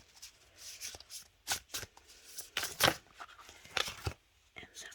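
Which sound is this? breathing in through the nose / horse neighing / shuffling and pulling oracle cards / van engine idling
shuffling and pulling oracle cards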